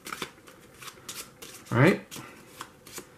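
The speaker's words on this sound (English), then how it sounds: "What you want to do with those, just go ahead and shuffle those." A small deck of cards from the board game Dungeon Flee gets one quick riffle shuffle, a short burst of fluttering card snaps close by, with a person talking briefly before and after it.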